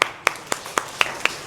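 Children clap in a classroom during a rural inquiry-based science lesson, six sharp, evenly spaced claps ringing out alone at a steady rhythm, close and crisp.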